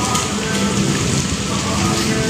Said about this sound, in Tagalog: Ngayon naman ay umulan naman ng malakas.